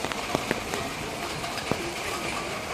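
Rain falls steadily in a dense hiss with scattered sharper drops striking a surface, close and continuous throughout.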